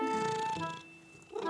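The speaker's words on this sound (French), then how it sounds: "Maman et Caillou entendirent un miaulement discret." A cartoon cat gives a soft, quiet meow with a gentle purring tone, short and close, with no talking.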